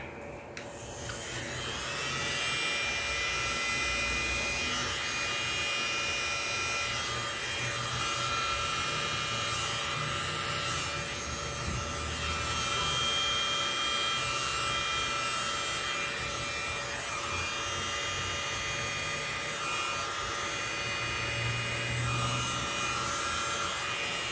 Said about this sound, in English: I'm gonna use my handy dandy little world's mini blower here to kind of just blow some of this out